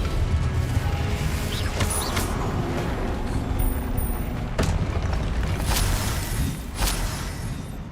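Booming explosion blasts from the Confringo fire spell in Hogwarts Legacy, several loud bursts with crackling impacts over a dense, rumbling game soundscape.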